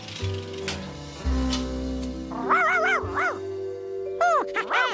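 A dog, heard in a children's cartoon, yips and whimpers in a few high, bouncing bursts over a steady musical background.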